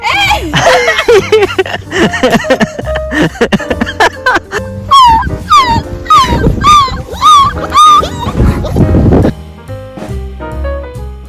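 Puppies on a farm whimper and yip in a string of high, rising and falling cries, close by, mixed with a little background talk and wind noise.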